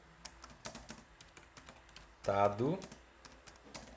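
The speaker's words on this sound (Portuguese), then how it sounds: "eu vou digitar o enunciado da questão" Rapid, uneven keyboard typing clicks run throughout, close and fairly quiet, with a brief burst of louder voice-like sound partway through.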